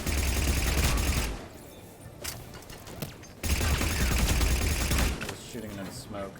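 Gunfire in Mass Effect 3 comes in two sustained loud bursts of rapid shots, separated by a quieter gap with scattered sounds.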